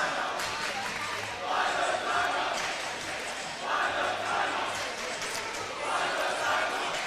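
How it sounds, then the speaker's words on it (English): At a high school basketball game, a student section and football team chant in rhythmic waves, a large crowd roaring in repeated swells while a play-by-play announcer talks over the cheering. "Football team and student section doing a great job cheering down here"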